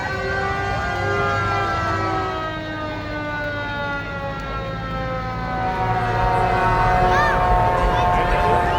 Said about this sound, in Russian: Вот это с пожарными машинами прикольные.